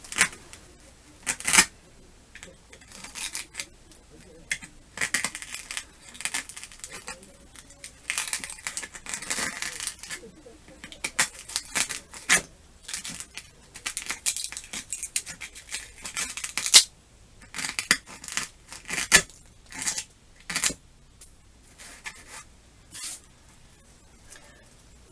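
A craft foam ball is cut flat for a snowman prop, heard as close, repeated scratchy crunching and slicing strokes in irregular bursts over quiet background.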